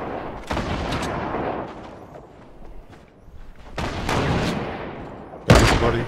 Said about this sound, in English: Yeah, I just shot straight through them.